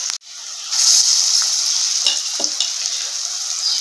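Lentil balls dropped into hot oil set off a sharp burst of bright, hissing sizzle that settles into steady frying with small pops.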